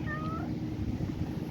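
A mother cat gives a short, clear meow close by at the Al Khobar Corniche, with low outdoor background noise underneath.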